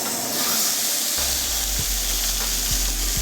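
Bacon-wrapped pork tenderloin sears in a sauté pan with a loud, steady sizzle and hiss, close by, punctuated by a few soft knocks as the meat is moved.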